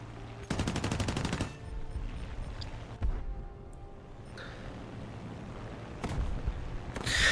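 Plane-mounted .50 caliber machine guns in War Thunder fire a loud, rapid burst of about a second, then shorter bursts later over engine drone and game noise.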